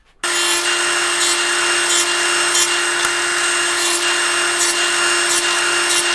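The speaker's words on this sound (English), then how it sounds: "when you're using a dado stack like this, you have to put a lot of downward pressure" A table saw fitted with a dado stack cuts through wood in one loud, continuous high whine with a steady pitch, starting abruptly and running on without break.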